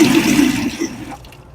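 Mug root beer pours from a Lancer dual-pour soda fountain, a loud steady liquid rush that cuts off after about a second, leaving a faint trickle.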